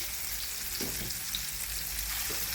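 A gemsbok steak fries in hot oil in a pan, giving a steady, close crackling sizzle with small pops throughout and no voices.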